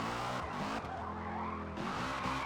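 A Saleen drifts hard into a corner in Forza Motorsport, its tires squealing continuously under a loud revving engine, close and sustained with brief shifts in pitch.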